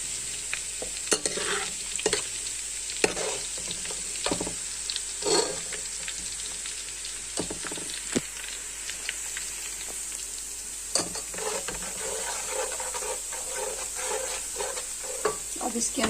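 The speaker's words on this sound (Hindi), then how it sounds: "अच्छी तरह लहसुन को फ्राई करेंगे।" Garlic frying in a pan while being stirred, a continuous soft sizzle broken by repeated clinks and scrapes of the spoon at an irregular rhythm.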